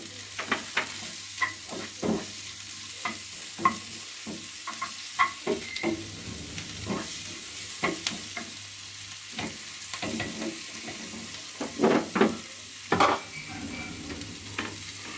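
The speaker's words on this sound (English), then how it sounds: "Stir garlic." Garlic sizzles and fries in a pan while a utensil stirs it, giving repeated scraping clicks over a steady frying hiss, close and fairly quiet with no talking.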